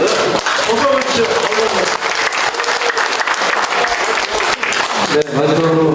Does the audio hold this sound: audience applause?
yes